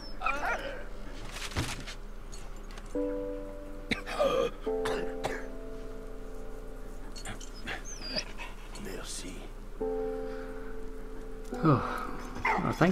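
A dog in the World War I video game Valiant Hearts gives short barks and soft whimpers over a low steady game background, with tonal musical cues and occasional throat-clearing sounds.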